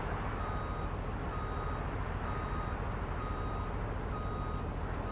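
A truck's reversing alarm in Farming Simulator 19, beeping steadily at an even pace over the low rumble of its idling engine.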